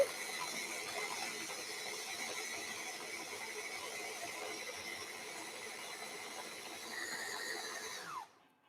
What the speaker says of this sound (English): you can see that it is grinding down very nicely